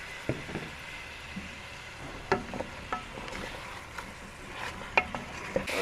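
Fish pieces fry in oily masala in a pan, a soft continuous sizzle broken by occasional clinks and scrapes of a spatula, close and fairly quiet with no talking.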